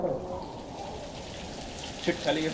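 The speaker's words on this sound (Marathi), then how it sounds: "पाऊस खूपच आहे" Heavy rain pours at the foot of Surgad fort in the Konkan region, a steady dense hiss throughout with a couple of brief louder splashes near the end.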